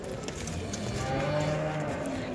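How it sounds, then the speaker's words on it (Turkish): Simmental cows low with long, deep moos at a busy livestock market in Kırıkkale. The sustained lowing sits close and fairly loud above a steady background murmur of the market. "Şurada da 2 tane simental ineğimiz var arkadaşlar."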